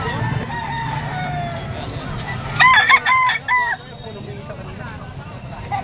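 A rooster crows loudly nearby, repeated in quick bursts, over a background of clucking chickens and a busy livestock auction market hum in Padre Garcia, Batangas.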